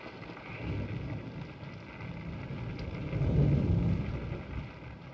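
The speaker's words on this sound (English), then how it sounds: "It's raining." Rain falls steadily in a 1941 classic film, a dense, even hiss that thickens and grows louder around the middle before easing slightly, with no voices over it.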